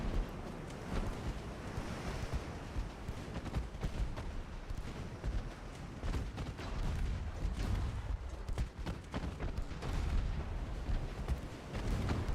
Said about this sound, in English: These secondaries are going to rip this freaking transport fleet apart.